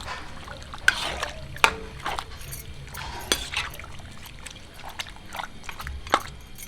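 Water is poured into a cooking pot of gongura chicken with a soft splashing trickle, broken by a few sharp knocks and clatters nearby.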